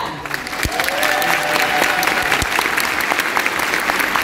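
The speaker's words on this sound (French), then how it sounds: "une fois de plus, un tonnerre d'applaudissements pour Yohan T. London." An audience claps throughout at a film event honoring a guest, sustained dense applause close and steady from start to finish with a few sharper claps standing out.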